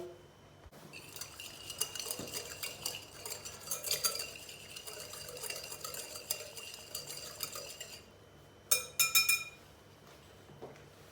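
A spoon stirs chili flakes and cumin through oiled, salted potatoes in a pan, with soft scraping and scattered metallic clinks, ending in a few sharper knocks against the pan.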